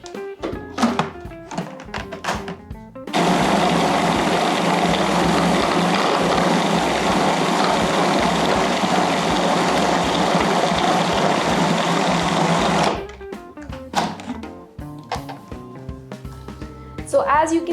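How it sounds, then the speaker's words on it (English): A kitchen blender whirs loudly and steadily for about ten seconds as it blends a vegan, gluten-free chocolate granola brownie energy-ball mixture, with thuds and handling noises and brief talk before and after. "And now I'm going to go ahead and blend."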